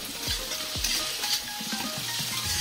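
Tomatoes hit hot oil in a pan of frying ginger-garlic masala with green chilies, giving a steady close sizzle broken by a few sharp stirring scrapes.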